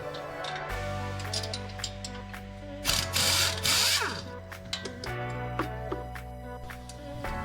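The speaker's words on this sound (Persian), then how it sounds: "با بوکس 18 و آچار 18 مهره دو پیچ پایین کمک را باز می کنیم" An 18 mm socket and wrench loosen the lower shock absorber nuts on a Renault Sandero, giving close metallic ratcheting clicks in bursts, with a louder clattering stretch in the middle and a steady mechanical hum underneath.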